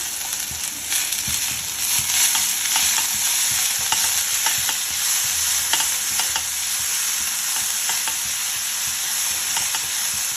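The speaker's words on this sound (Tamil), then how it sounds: "இது கொஞ்சம் நல்லா தக்காளி வணங்குற வரைக்கும் நல்லா வணக்கிக்கலாம்." Tomato and onion with a little green chilli sizzle steadily in a pan, and repeated stirring scrapes sound close by. The frying is continuous and fairly loud, with no voices.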